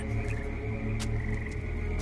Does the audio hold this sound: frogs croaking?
yes